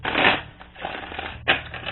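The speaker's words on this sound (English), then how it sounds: "Okay, let's try a shuffle." A deck of tarot cards being shuffled nearby, giving two bursts of dense papery riffling, one long and one shorter, with no talking over it.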